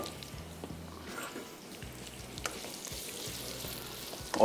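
Sliced onions fry in a pan with a soft, steady sizzle and occasional light clinks of a spoon, fairly faint and unaccompanied by speech.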